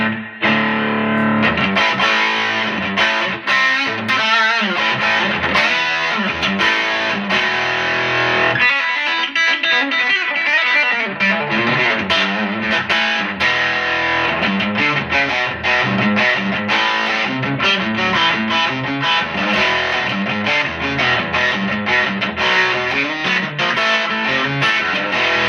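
Electric guitar played through a Joyo Bantamp Jackman II amplifier with the gain turned all the way up, giving a loud, heavily distorted tone with sustained chords and riffs, a brief pause near the middle, and no talking.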